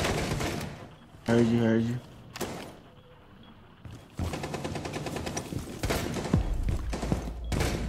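Automatic gunfire rattles in bursts during a Rainbow Six Siege match, fairly loud and mixed with a player talking over the shots.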